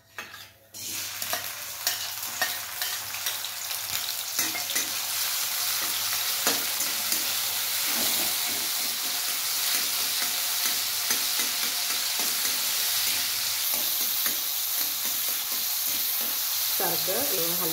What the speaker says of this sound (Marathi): टमाटर परतून घ्यायचं